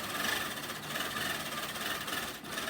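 A ProStitcher-guided long-arm quilting machine stitches at a steady pace, producing a continuous mechanical whir and rapid needle chatter, close and even throughout with no talk.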